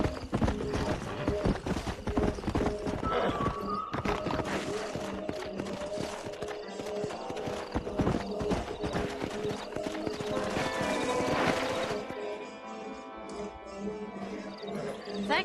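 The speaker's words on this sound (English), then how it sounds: "We got some fine horses." Horses in the Red Dead Redemption video game trotting with steady clip-clop hoofbeats and occasional whinnies, mixed with in-game ambience and faint voices throughout.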